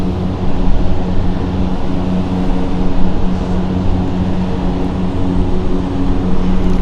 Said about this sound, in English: This is the Embraer 190.